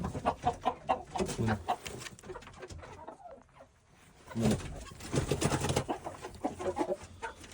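Laying hens cluck repeatedly in short bursts close by on a small poultry farm, with a brief quieter pause midway before the clucking resumes.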